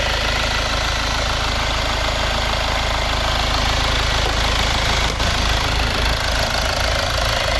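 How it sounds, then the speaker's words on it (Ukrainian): A 2011 Mitsubishi Outlander XL with a 2.2 DI-D diesel engine and automatic gearbox idles close up, a loud, steady rumble with a fine knocking clatter that holds evenly throughout. "Ось робота двигуна."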